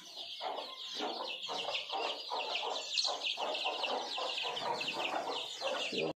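A hen and her chicks on a free-range poultry farm cluck steadily in a chorus of short repeated calls, close and moderately loud, with high chirping running continuously through.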